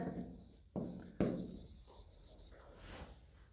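A pen scratches across paper up close, writing figures in short strokes with a couple of sharper taps and brief lifts between marks. The setting is quiet and no one talks.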